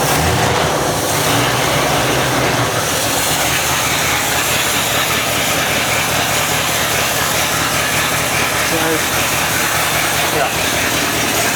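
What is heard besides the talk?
1963 Ford Thunderbird engine running after 35 years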